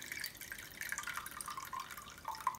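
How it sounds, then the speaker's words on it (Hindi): Soaking water from soaked chana dal drains away in a faint, close trickle of drips and small splashes, with a soft plop near the end and no talk. "इसका जो पानी है ना वो निकाल लेना है"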